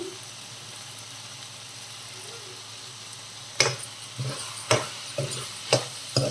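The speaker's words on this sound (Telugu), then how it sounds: "వన్ మినిట్ మగ్గించుకుందాం టమాటాతో పాటు." Bottle gourd curry with tomato cooking in a pan gives a quiet simmer at first, then a series of sharp spoon scrapes and stirring clatters against the pan.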